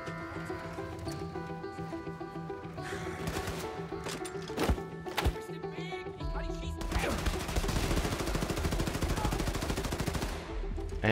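Rapid gunfire from the video game Wolfenstein II, including a wheelchair melee, crackling in dense bursts over a steady game music bed, getting busier and more continuous in the second half.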